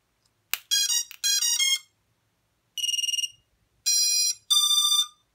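A Dalrc Engine 4-in-1 drone ESC powered by a 5-cell battery plays its startup tones: a sequence of bright synth-like electronic beeps in short bursts, some rapidly pulsed, clean and close against silence.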